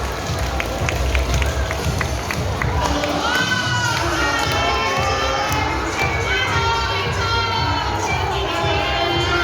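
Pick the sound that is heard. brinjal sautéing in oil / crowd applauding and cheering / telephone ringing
crowd applauding and cheering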